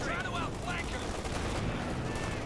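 Heavy artillery barrages in the Company of Heroes 2 battle, a dense stream of booming and crackling gunfire explosions filling the scene at moderate level, with a commentator's voice faintly mixed in.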